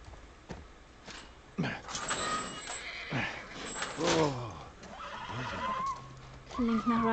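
A horse whinnies in the video game The Last of Us Part I, with rising and falling calls sounding close over low ambient noise and occasional hoof clops, while voices speak at times.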